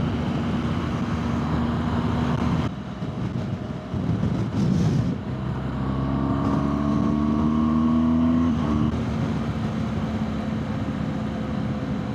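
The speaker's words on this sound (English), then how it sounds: "Car coming. No. 2 cars, then you're clear." Cars pass on a road heard from a BMW R1200GS motorcycle, a steady roar under wind noise with a louder vehicle swelling past midway and engine tones rising and fading.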